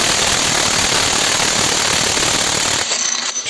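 A ONEVAN 2800 NM cordless impact wrench hammers hard and continuously to loosen a nut, a loud, dense rattling burst close up that cuts off near the end, leaving a brief quieter tail.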